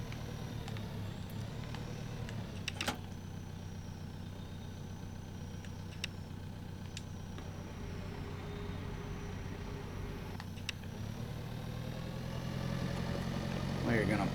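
A tractor engine in a farming simulator game idles and drones steadily with a low rumble, swelling slightly louder near the end, with occasional sharp clicks over it.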